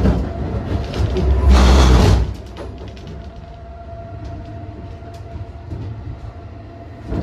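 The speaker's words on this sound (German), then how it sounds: "Hier jetzt die Einfahrt in den Mannheimer Hauptbahnhof, wo meine Fahrt im EuroCity 8 zu Ende ging." A EuroCity train pulls into Mannheim main station. A loud rushing rumble peaks and then drops to a lower steady rolling hum, with scattered clanks and squeals from the rails and carriages.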